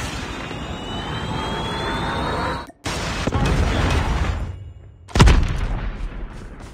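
Incoming Predator missile in a video game: a long roaring jet-like rush that cuts out abruptly, swells again, then ends in one loud, close explosive boom near the end.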